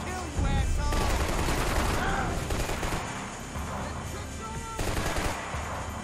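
Sustained gunfire in the video game Max Payne 3, dense bursts of automatic shots and cracks rattling continuously over game noise.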